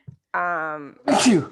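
A single sharp, loud sneeze comes after a brief voiced sigh from the same person, close and clear against silence.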